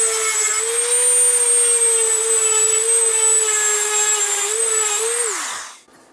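A power tool grinds against a piece of metal being sharpened, a steady loud whine with a bright high edge that holds for about five seconds, then dips in pitch and cuts off as the tool winds down.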